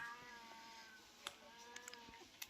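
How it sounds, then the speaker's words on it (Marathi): A restless cat meows in a rural village home during fish cooking, faint and distant, with a few soft clicks and no talking. "मांजरीची तगमग व्हायला लागली"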